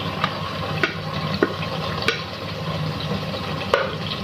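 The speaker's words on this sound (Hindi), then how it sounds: "अब हम इसके अंदर भिंडियाँ ऐड करेंगे जो से हमने फ्राई करके रखी थी" Fried okra tumbled into a thick masala gravy and stirred in a pan, a steady low sizzle broken by a few sharp scraping clicks of the spoon at irregular intervals, close and alone.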